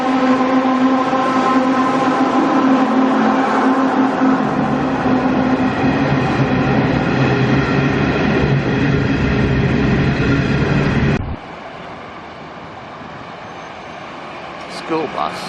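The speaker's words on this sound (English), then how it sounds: "Empty coal train at Muswellbrook." An empty coal train rolls past at Muswellbrook with a loud, steady rumble and rattling wagons. The noise cuts off abruptly near the end, leaving quieter surroundings.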